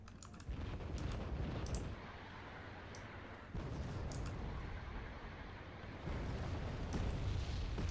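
Rocket artillery barrages in WarGame Red Dragon, dense rumbling explosions and crackling impacts in sustained loud bursts that drop and surge again, with sharp clicking transients scattered over the top.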